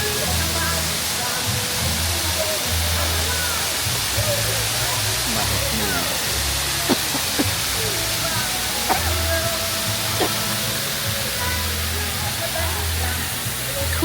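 A waterfall roars as a steady, dense rush of falling water, up close and loud, while faint crowd sounds and voices drift underneath.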